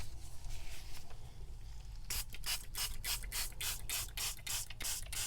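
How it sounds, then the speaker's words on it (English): After a quiet stretch, a rapid series of short spray bursts hisses nearby, a pump-spray of dye through a stencil onto paper pattering in quick, regular pulses. "And then let's go ahead and spray."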